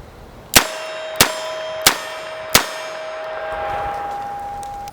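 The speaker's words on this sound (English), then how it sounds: "the pistol hit steel, even in double action" S&W Model 10 revolver bullets strike a steel target in four sharp, ringing clangs spaced evenly about half a second apart, the last ring lingering; the gunshots themselves are distant and faint.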